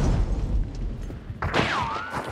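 Gunfire and a booming blast in the video game Hunt Showdown, a deep rumbling report followed by a sharp burst and a ringing whine, heard close and loud.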